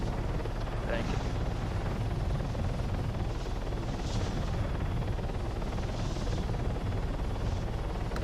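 A combat helicopter in the video game Arma 3 gives a steady, dense rotor and engine roar that runs throughout, loud and unbroken, with faint bursts layered on top.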